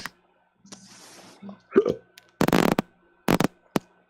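A man burps during a casual group chat, short guttural bursts standing out between quieter sounds, with voices talking around them.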